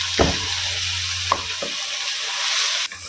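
Onion, tomato and green chili tipped into hot oil for a ridge gourd curry, giving a loud, steady sizzle close by, broken by a few sharp stirring clacks.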